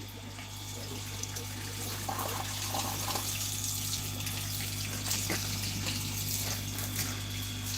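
Water flushing through a koi farm tank, a steady broadband rush with a constant pump hum underneath, with faint voices in the background.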